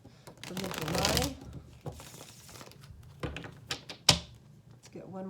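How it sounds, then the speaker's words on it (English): Tarot cards being shuffled by hand in a quiet room, a burst of rapid riffling followed by a few short flicks and taps of the deck, with a voice speaking between them. "Let's get one more shuffle for Gemini."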